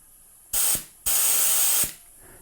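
An airbrush blasts air when its trigger is pressed: a short loud hiss lasting about a quarter second, a brief pause, then a longer steady spray of nearly a second, both close and with no voices.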